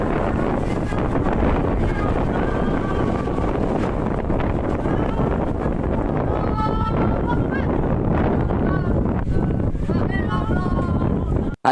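Strong whirlwind gusts roar steadily against a microphone near a mosque, buffeting continuously and loudly, while voices talk over it.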